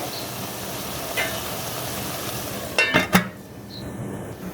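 Soft kachki fish is sautéed in a pan under a continuous low frying hiss, with a brief cluster of utensil scrapes and clinks near the end as it is stirred.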